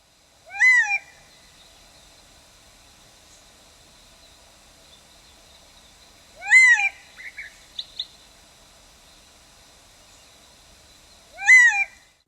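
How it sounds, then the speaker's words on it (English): Male Gambel's quail giving loud caw calls from a perch, three separate bursts spaced several seconds apart against a quiet background, with a few short softer chirps after the second call. "During the breeding season, males announce their availability with a caw or cow call given from an elevated"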